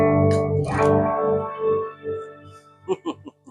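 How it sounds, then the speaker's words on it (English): Sustained electric guitar chords through a shimmer reverb pedal bloom into a shimmering, reverb-soaked wash with high octave-like overtones, followed by a few softer plucked notes trailing in the ambience. "you're using the immerse for an added reverb? Just for the added shimmer"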